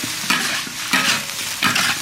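Scallion, ginger, garlic, Sichuan pepper, star anise, bay leaf and cinnamon stir-fry in a hot wok, a close steady sizzle broken by three rhythmic scraping stirs, with no talk.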